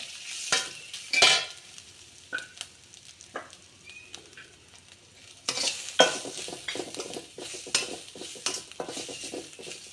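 Grated coconut sautéing in a pan for a Vinayagar Chathurthi sweet, with spatula scraping and stirring over a light sizzle, clanks against the pan growing busier in the second half, no voices.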